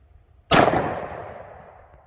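A single sharp pistol shot from a 9mm Glock firing Corbon 115-grain ammunition at an outdoor range, a loud crack followed by a long fading echo.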